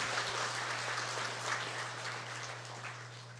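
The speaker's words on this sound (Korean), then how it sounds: "우리 축복의 박수 하도록 하겠습니다" Faint, steady applause from a congregation during a Sunday church service, heard as a soft, even wash of clapping over a low electrical hum.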